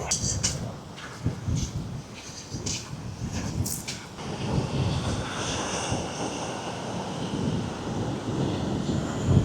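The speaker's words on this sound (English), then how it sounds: "It's pretty windy." Strong wind buffeting and roaring over the microphone by a beach in the Florida Keys, a continuous rumbling rush with gusty swells and no voices.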